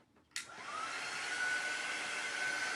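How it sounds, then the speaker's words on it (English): A handheld dryer clicks on and then blows a steady, close whooshing roar over a 3D botanical paper craft project, running without a break after a brief quiet start. "Now I will dry it and then we'll cut it out."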